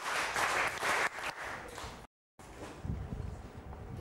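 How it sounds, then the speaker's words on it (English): A Grade 6 class claps in a few quick bursts, a brief silence breaks it, then scattered softer claps and shuffling noises follow. "Give Madhu 3 big claps."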